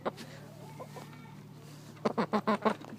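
Chickens cluck in a quick series of short, close calls near the end, after a stretch of low background hum and faint movement.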